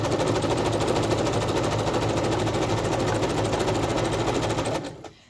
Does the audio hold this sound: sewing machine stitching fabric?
yes